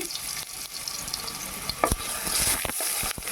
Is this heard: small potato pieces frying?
yes